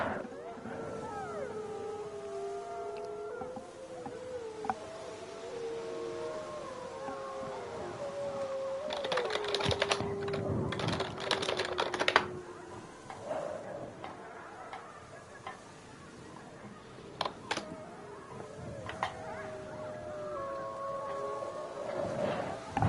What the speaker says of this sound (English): I can hear all those wolves howling.